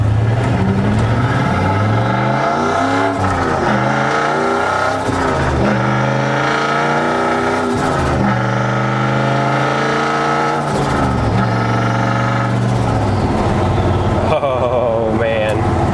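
A 2004 Ford Mustang Mach 1 with a turbo and the exhaust cutout open, a loud deep engine roar revving up and down repeatedly close by for sixteen seconds.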